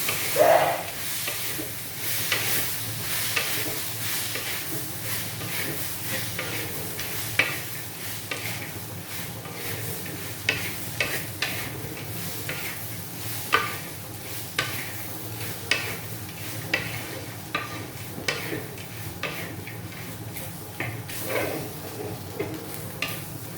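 Veg crispy is tossed in a pan with ketchup or chili sauce, a spoon scraping and clinking against the metal in irregular strokes over a low, constant sizzle, close and without speech.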